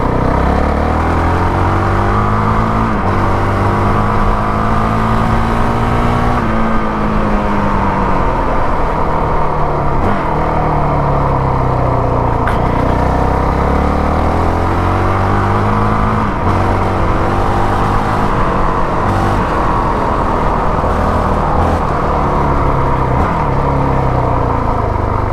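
A 2019 Honda CRF450L dirt bike rides off road, its engine loud and close, revving up and easing off repeatedly for about 25 seconds with no voices.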